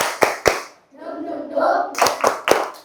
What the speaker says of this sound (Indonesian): Kita tepuk semangat lagi sekali lagi.